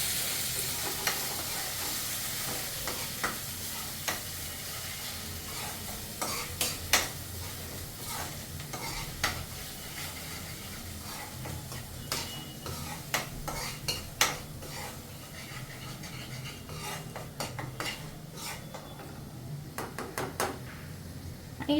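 Masala paste frying in oil over low heat while being stirred in a pan: a steady sizzle with repeated scraping and clinking of the spoon against the metal, close and continuous throughout.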